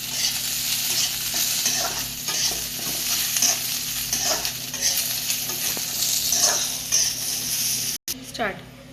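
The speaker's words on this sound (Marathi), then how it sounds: "आता ह्याच्यात गवार आपण चांगले फ्राय करून घेऊ." Cluster beans (gavar) fry in hot oil, a continuous crackling sizzle broken by repeated scraping strokes of a spoon stirring the pan, with a clank near the end; someone speaks over the cooking.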